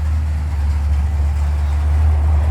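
A car on a street in Venice Beach, with an engine that sounds like a motorcycle, gives a loud, steady low rumble close by, holding an even idle-like drone throughout with no other sounds over it.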